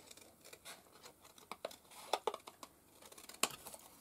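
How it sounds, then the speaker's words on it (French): Scissors cutting through paper along a drawn line, a quiet series of short crisp snips and rustles at irregular intervals, close and faint, with no voices. "Moi je prends mes ciseaux."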